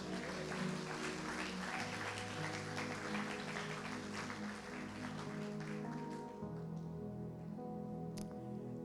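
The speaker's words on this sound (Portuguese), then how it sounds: "Quem crê nisso, aplauda ao Senhor." A church congregation applauds with steady, dense clapping over sustained music, fairly faint and distant, fading toward the end.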